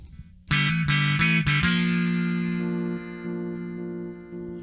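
A Stratocaster fitted with custom passive EMG 7K single-coil pickups, one coil wired out of polarity, plays several quick strummed chord stabs and then a final chord that rings out and slowly decays, loud and close.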